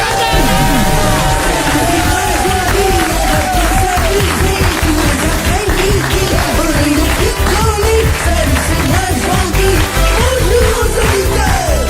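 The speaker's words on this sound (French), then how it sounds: "je vous demande de faire un triomphe d'applaudissements pour le jeu de Jean-Guy" A studio audience at a French radio game show breaks into applause, a continuous loud wash of clapping mixed with crowd hubbub, while voices talk over it throughout.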